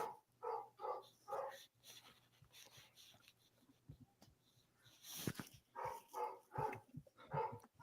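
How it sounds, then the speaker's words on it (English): A dog barks in the background, giving quiet, intermittent yips and woofs mixed with faint clatter and shuffling, with no talking. "I keep hearing a dog in the background."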